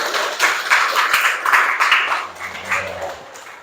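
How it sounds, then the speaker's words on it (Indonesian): A small group claps for a few seconds in a podcast setting, a steady patter of hand claps that tapers off near the end. "Tepuk tangan untuk diri sendiri."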